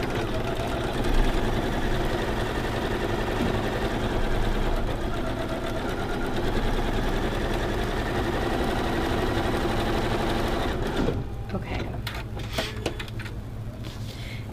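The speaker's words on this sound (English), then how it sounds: "we've sewn on one side, and we're just going to turn and do that again as well." A sewing machine stitching quilt pieces, running in a steady, continuous whir for about eleven seconds before stopping, followed by quieter handling noises.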